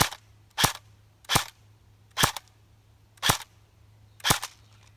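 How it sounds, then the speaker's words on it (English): A Cyma AKS74U airsoft gun fires .30 BBs in five crisp, snappy single shots spaced roughly a second apart, close and clear over a faint steady hum. "As you can see, these shoot just a little bit flatter."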